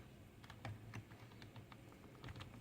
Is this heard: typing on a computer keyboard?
yes